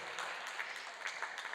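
A crowd applauds after a strong front-court rally at a professional squash semi-final, a steady wash of clapping lasting a moment with no talk over it.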